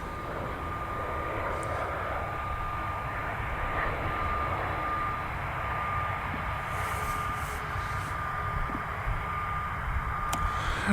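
An Embraer Phenom medical jet lands on runway 6 left, its engines a steady, distant broadband roar that stays even throughout, with no talk over it.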